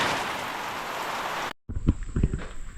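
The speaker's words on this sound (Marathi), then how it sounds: "पाऊस बघा जोर धरला पावसाळ्यात" Heavy monsoon rain in a Konkan village roars in a dense, steady wash, then cuts off abruptly, leaving quieter sounds with a few low thumps.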